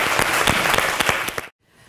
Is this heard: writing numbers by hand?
no